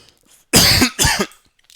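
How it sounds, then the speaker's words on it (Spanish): Two sharp, close coughs, one right after the other, in an otherwise quiet room. "Perdón, estaba tosiendo."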